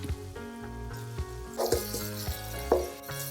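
Garlic frying in a pan over medium heat for turkey tetrazzini, a soft continuous sizzle with light stirring under steady tonal background music.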